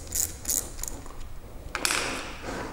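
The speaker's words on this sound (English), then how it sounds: "They are generally a 10mm size. So we remove the two bolts." A ratchet wrench loosens 10mm battery bolts on a mid-wheel drive wheelchair, giving a few quick close clicking bursts followed by a longer rasping ratchet run, moderately quiet with no talking.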